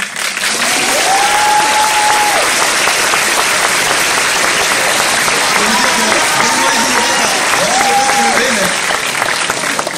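Steady, dense applause from an audience at a school graduation ceremony fills the whole stretch at an even, loud level, with a speaking voice briefly audible over it at moments.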